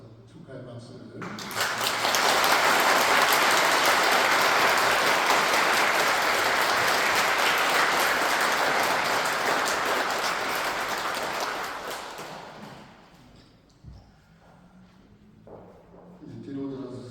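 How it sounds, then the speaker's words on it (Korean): A wedding Mass congregation claps for the newlyweds in church, a dense, loud, sustained round of applause that swells quickly, holds for about ten seconds, then tapers off into quiet room sound. "축하의 박수를."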